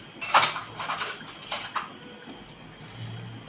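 A metal spoon clinks and rattles against a cooking pot in a home kitchen, several quick close knocks over the first two seconds, then quiet with a low hum.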